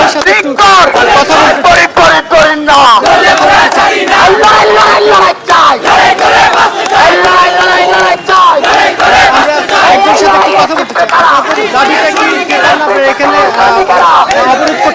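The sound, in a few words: protest crowd chanting slogans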